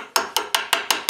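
Six sharp, evenly spaced hammer blows ring out on a steel bloom of mild steel and iron being forged for a Japanese sword, each strike bright and metallic with a short ringing decay, close and loud.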